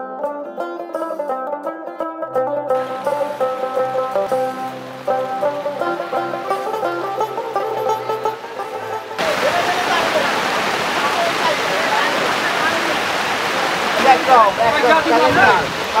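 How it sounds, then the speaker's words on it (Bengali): Heavy rain pours down at the floating guava market in Bhimruli, Jhalakathi, Barishal, a dense, steady roar that takes over partway through after a stretch of tonal sound and voices. "দেখুন কি বৃষ্টি আর বৃষ্টি।"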